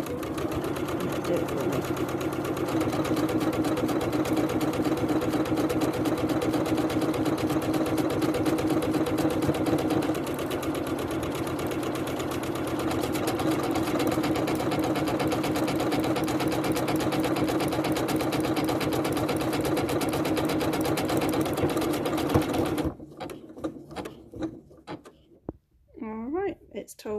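A domestic sewing machine stitches a buttonhole in a long, steady, fast mechanical whir with rhythmic needle chatter that runs for over twenty seconds, then stops abruptly, leaving a few handling clicks and a brief spoken line.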